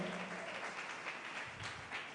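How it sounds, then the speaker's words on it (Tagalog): A congregation at a church worship service claps loudly for the Lord, a dense, sustained wash of applause from many hands filling the room for the whole moment. "pumalakpak ng malakas sa ating mahal na Panginoon"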